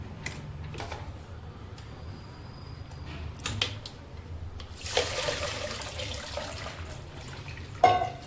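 Water from washed spinach and coriander is poured off through a strainer in a home kitchen, a soft splashing gush that swells in the middle and then trickles and drips, with a light clink of utensils and no voices.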